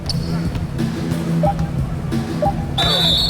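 A referee's whistle sounds in the basketball video game NBA 2K19, a bright high tone near the end over sneaker squeaks, ball bounces, crowd noise and commentary.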